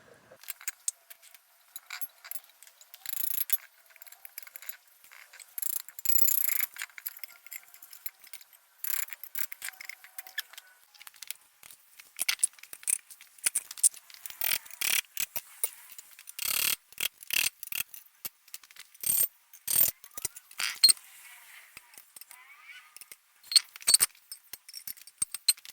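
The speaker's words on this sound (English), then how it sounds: "remove the center caps, remove the valves, and remove the weights." Center caps, valve stems and wheel weights being pried and pulled off Toyota 4Runner wheels, making irregular metallic clicks, taps and clatters in bursts with quiet gaps, close by and without speech.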